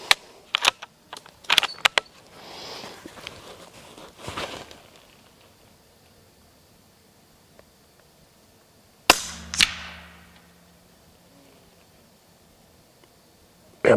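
Shots from a Rossi 8122 .22 Long Rifle at an outdoor range shooting at 80 meters, a few sharp cracks early then a single louder report with a short tail, separated by quiet stretches.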